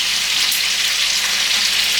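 Rice boils in a pot on the stove, giving a steady, close hiss of bubbling water with no talk over it.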